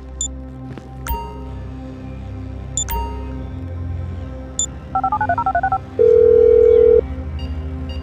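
In the video game GTA 5, a phone sounds a quick run of electronic dialing tones followed by a long steady tone, loud and up front over game music and effects.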